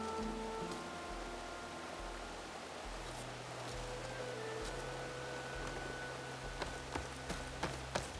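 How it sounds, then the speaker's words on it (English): Rain falls steadily in the video game Horizon Forbidden West, a soft continuous hiss with scattered drops tapping nearby, quiet and unbroken throughout. "Don't mind the rain!"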